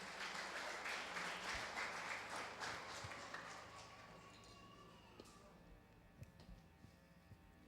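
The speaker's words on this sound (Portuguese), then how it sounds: "Vamos receber o servo de Deus com palmas." A church congregation at a family service applauds to welcome the pastor. The faint, dense clapping fades after about four seconds, leaving a quieter room with scattered claps and small knocks.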